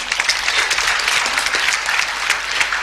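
Audience applause at a church seminar, a loud and close patter of many hands clapping in a dense, fluttering rhythm that lasts a few seconds.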